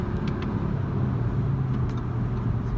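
A 2018 Audi RS3 drives through traffic, heard from inside as a quiet, steady low rumble of engine and road noise with no talking.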